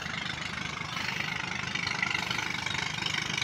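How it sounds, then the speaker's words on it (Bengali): Trawler and speedboat engines drone over Kaptai Lake, a steady low throbbing hum heard from some distance, fairly quiet, with no voices. "ট্রলার স্পিডবোট যাচ্ছে"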